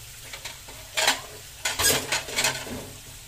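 Eggplant omelette (tortang talong) frying in a pan, a steady low sizzle broken by a few louder scraping stirs of a utensil, close by with no talking.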